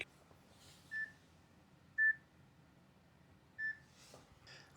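An alarm from the built-in speaker of an ESP32-S3 display board gives three short, thin beeps about a second apart, faint against a quiet room hiss, with a soft clatter near the end.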